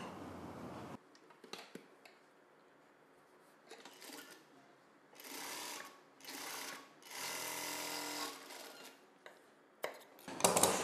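A sewing machine stitching a blouse runs in several short bursts of fast, even whirring and clatter, separated by quieter pauses with light handling clicks.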